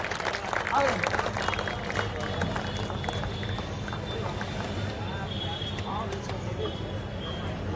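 A crowd at an All India Kavi Sammelan poetry gathering claps for the poet Gajendra Priyanshu, a dense, fairly distant wash of applause that continues steadily under a faint background hum.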